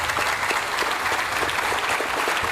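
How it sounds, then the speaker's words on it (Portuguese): Audience applause for a professor at a World Water Week event and lounge inauguration, a loud, dense burst of many hands clapping close by, sustained evenly throughout. "salva de palmas para a professora Mônica"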